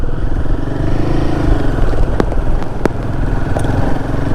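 A motorcycle ridden on a curvy, rain-slicked mountain road, its engine droning steadily and close up alongside wind and road noise, with a couple of brief clicks and clatters.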